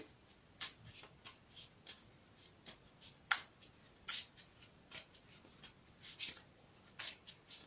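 Quick, crisp riffles and snaps of oracle cards being shuffled by hand, a steady run of short bursts close up and fairly quiet.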